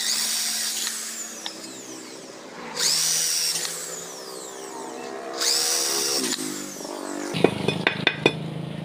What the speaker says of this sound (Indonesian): tadi platnya sudah kita bor, sekarang ini kita besarkan lubangnya